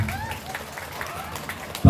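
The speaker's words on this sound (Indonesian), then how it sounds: "tepuk tangan untuk kita semua" An audience at an Indonesian gathering applauds, with faint scattered clapping that swells into a loud burst at the very end of the brief moment.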